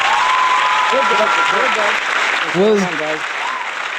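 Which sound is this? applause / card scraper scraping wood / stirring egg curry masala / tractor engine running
applause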